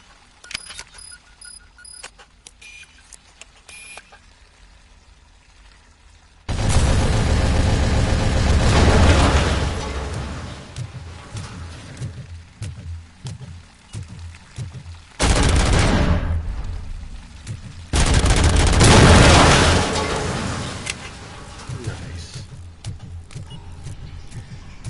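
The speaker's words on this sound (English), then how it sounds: "Grenades at me?" Grenade explosions in Robocop: Rogue City erupt as loud, broad blasts, three heavy bursts separated by quieter stretches of rumbling combat noise, each lingering for several seconds.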